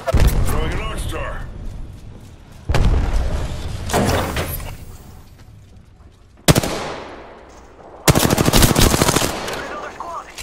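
Gunfire in the video game Apex Legends, loud close bursts of automatic fire and heavy shots arriving in several clusters with fading tails between them, with a voice talking over the action.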